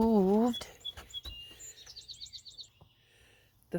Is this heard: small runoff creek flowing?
no